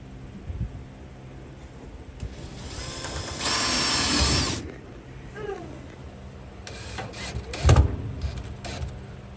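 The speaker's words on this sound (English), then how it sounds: "I'm putting the last screw in" A screw is driven in under the hood of a Chevrolet C10 pickup, with a short, loud burst of powered driving mid-way among quieter mechanical clicks and handling noises.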